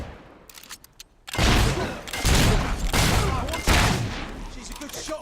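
Gunfire in the video game Fable III: after a quiet moment with a few faint clicks, a loud run of rapid shots breaks out in several close, sustained volleys.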